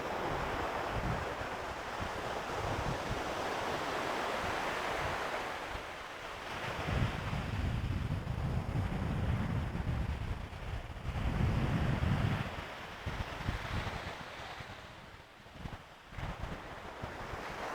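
Ocean waves and wind at a beach, with steady surf wash and low rumbling gusts buffeting the microphone throughout, swelling louder in places, with no voices.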